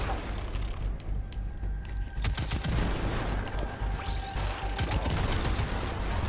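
Gunfire from the Destiny 2 video game, with rapid bursts of shots and sharp cracks that come in clusters against a low rumbling backdrop, moderately loud, broken by brief gaps.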